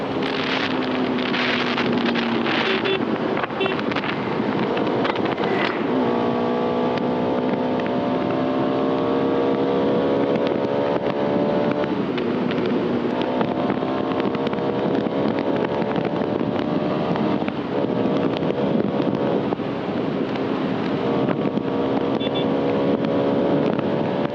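A Bajaj Pulsar RS 200 sports motorcycle engine pulls hard while riding, its tone climbing through the gears in repeated rising sweeps under heavy, constant wind buffeting, loud and close throughout.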